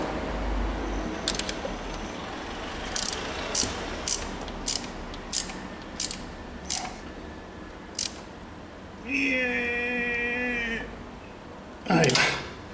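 Ratchet tightening the oil drain plug with a copper washer on a Honda CB 250 motorcycle, a series of evenly spaced sharp clicks in short bursts, close up, followed by a longer mechanical whir and a final clatter.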